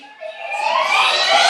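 A person vocally imitates a squeaky door opening with one long rising squeal that grows louder and brighter, heard alone and close.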